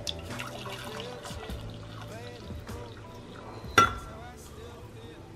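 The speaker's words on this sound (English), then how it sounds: "I always pour a little less in one cup" Freshly brewed coffee is poured into a cup at home, a soft trickle running under quiet room noise, broken by one sharp clink of the cup partway through.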